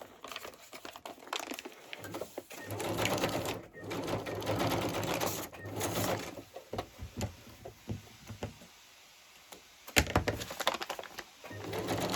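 A sewing machine set to a longer straight stitch runs in several quiet bursts while fabric is turned in circles, with crinkling and handling rustles between runs.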